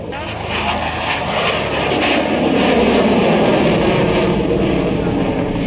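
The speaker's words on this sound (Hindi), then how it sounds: "3 मिग-29 विमानों ने भी एयरफोर्स डे में अपना करतब दिखाया।" Three MiG-29 fighter jets fly past at an Indian Air Force Day display with a loud, swelling jet engine roar that builds and holds steady over several seconds, near and overwhelming, while a voice is faintly heard beneath.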